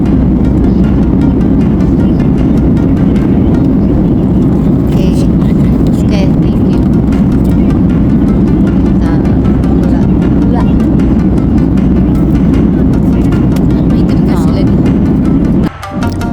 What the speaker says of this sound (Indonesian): Dan sebentar lagi pesawatnya ini akan segera mendarat.